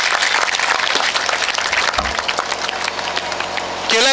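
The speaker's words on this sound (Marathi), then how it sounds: "थोड्याशा टाळ्या वाजवू शकता तुम्ही." An audience claps at a speech event, dense, lively applause running steadily from start to finish at a loud level, with a brief voice cutting in right at the end.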